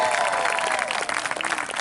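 Dense, steady applause from a large graduation ceremony audience honoring a deputy mayor, continuous and full throughout without letting up.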